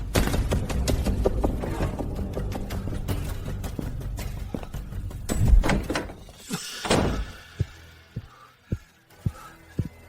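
A front door in a home opening, with thuds and a slam followed by a series of evenly spaced heavy knocks or footfalls, near and distinct, with no speech heard.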